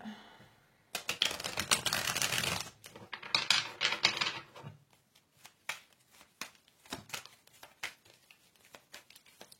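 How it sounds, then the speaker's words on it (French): Tarot cards being shuffled and handled, a dense riffling burst followed by a series of softer, separate clicks and slaps as cards are laid out, close and fairly quiet. "je vais mettre 3 cartes tarot ici"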